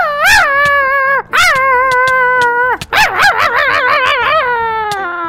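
Dogs fighting in Minecraft, one of them a Doberman, give a run of loud, close yelps and howling whines that rise and waver, with short gaps and no talk.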